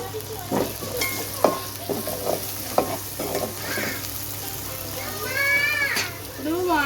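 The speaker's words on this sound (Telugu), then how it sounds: "అల్లం వెల్లుల్లి పేస్ట్ కూడా ఫ్రై అయిన తర్వాత ఒక స్పూన్ బిర్యానీ మసాలా వేసుకుంటున్నానండి" Ginger garlic paste and biryani masala frying in a pan, a close crackling sizzle broken by scraping stir strokes, with faint background sounds.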